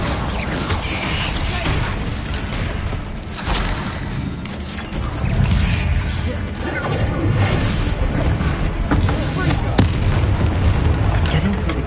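Fiery Confringo and Bombarda blasting spells from the Hogwarts Legacy game, loud booming explosions with crackling bursts over dense game music and effects, a voice calling out spell names.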